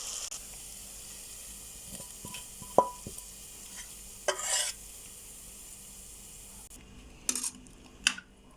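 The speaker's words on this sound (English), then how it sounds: "let it fry on medium heat for about 3 minutes" Food fries on medium heat for braised samp with a soft, faint sizzle. A few scattered clinks and scrapes of stirring break through, and no one speaks.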